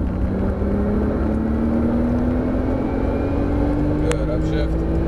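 A Porsche 997 Turbo S accelerates hard on a track, its engine note climbing steadily in one long pull. The sound is heard loud and close from inside the car, with an instructor's voice over it.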